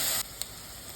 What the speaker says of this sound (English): stir frying it for some more time.